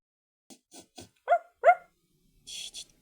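A trained female dog gives a few short barks, two louder yaps in the middle followed by a fainter pair, close by with no talk.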